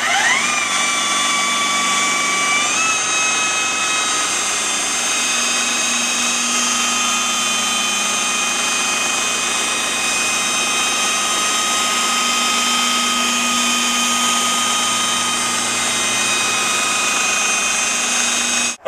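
A power grinder fitted with a red abrasive disc grinds down damaged material, a loud steady high-pitched whine that revs up in the first seconds and then holds continuously, close and uninterrupted, with no talking.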